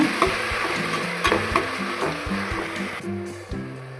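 Onion, tomato and capsicum frying in a pan with salt added, a steady loud sizzle with occasional scraping stir knocks, no talk.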